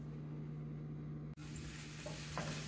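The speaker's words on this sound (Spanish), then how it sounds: "aquí ya estoy pasando a freír la cebolla y el ajo picadito" Chopped onion and garlic fry in oil in a pan, giving a steady close sizzle with a brief dip midway, then faint stirring clatters near the end; a constant low electrical hum runs underneath.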